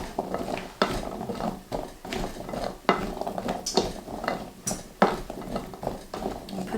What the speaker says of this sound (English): I'm gonna go ahead and put some olive oil on it. Not too much, just a little. Kind of give it a good toss